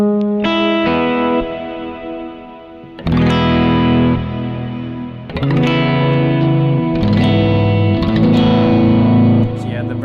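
Electric guitar chords from a Kemper amp strummed in bursts, each one washing out into a long, spacious reverb tail that lingers and fades before the next strike.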